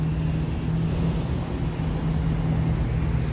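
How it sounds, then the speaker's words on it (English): Steady broadband road and cabin noise inside a 2022 Kia Telluride SX in gravity gray with 20-inch black alloy wheels, a constant low rumble and hum without talk. "I apologize for any road noise in the background."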